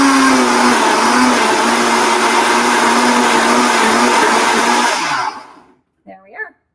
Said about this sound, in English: I'm just going to scrape it down so it's not so noisy, but it would totally pick it up and keep blending